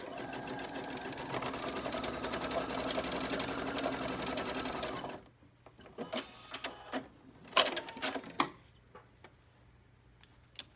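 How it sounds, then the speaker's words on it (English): A sewing machine stitching the top seam of a pocket on a children's t-shirt dress runs in a steady, close whir for about five seconds, then stops, leaving scattered clicks and small handling taps. "let's sew our pocket top seam here"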